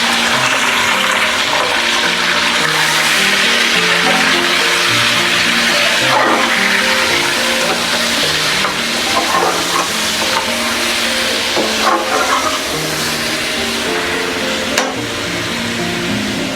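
Chicken sizzles and fries in a kadai with browned onion masala, a steady loud hiss with occasional stirring scrapes throughout.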